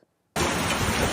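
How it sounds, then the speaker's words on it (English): A hailstorm in Yuma County, eastern Colorado, cuts in abruptly after near silence, becoming a dense, loud, continuous clatter and roar of falling ice and rain. "That's the hailstorm that blew through eastern Colorado last night."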